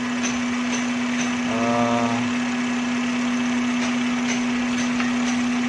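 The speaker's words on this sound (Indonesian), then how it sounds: "Untuk mesinnya udah enggak naik turun guys, sudah enggak naik turun." A Honda City automatic with a VTEC engine idles steadily, a constant close hum with a strong even tone and no rise or fall in revs.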